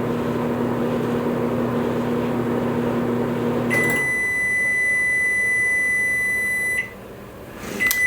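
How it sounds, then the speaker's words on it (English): A microwave hums steadily with a broad whir, then switches off and gives a string of high electronic beeps before going quiet. "that I'm going to put in the microwave."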